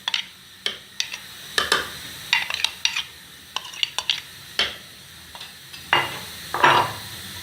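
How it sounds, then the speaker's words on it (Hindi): Haleem ingredients are stirred and cooked in a pot, with a spoon scraping and clinking against the metal in irregular, close knocks over a low, steady sizzle. "इन सब चीज़ों को हमने अब अच्छी तरह मिक्स करके 10-15 मिनट पकाना है"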